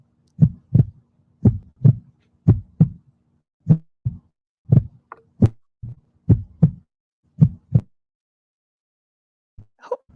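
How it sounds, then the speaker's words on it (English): Heartbeat sound effect laid over footage of a domestic violence incident: steady, loud paired thumps in a regular lub-dub rhythm for about eight seconds, then a brief pause and a faint trailing sound. "Was he the one who put this heartbeat on here"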